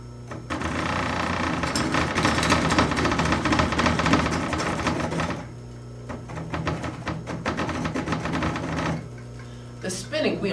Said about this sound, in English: now we're going to spin the wheel up really fast